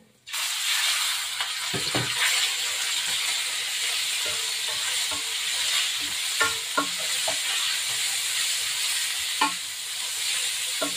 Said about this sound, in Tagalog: tapos igigisa natin yung iniwa ko na pork